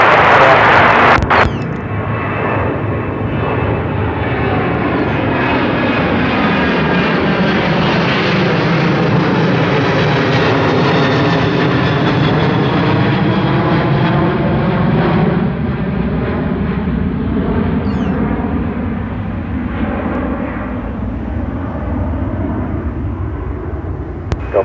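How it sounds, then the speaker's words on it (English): An Alaska Airlines jet takes off from runway 34 right at Seattle-Tacoma International Airport, its loud, steady engine roar holding close and continuous throughout with a slowly shifting whine on top. "Alaska 1332, runway 34 right, clear for takeoff."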